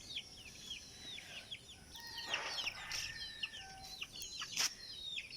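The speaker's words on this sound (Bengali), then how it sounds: "আর আমার মোরগগুলো দেখেন" Roosters on a rooftop garden cluck in a steady run of short, overlapping calls, fairly close, with a brief busier burst near the middle and no voices.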